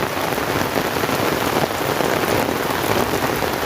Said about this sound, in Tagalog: grabe yung tubig malabas doon sa kanto ayun oh bumubulwak na naman doon sa may kanto oh